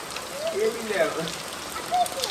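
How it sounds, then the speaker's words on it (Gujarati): Steady patter of rain falling on surfaces, with people's voices talking over it. "વરસાદ આવી ગયો."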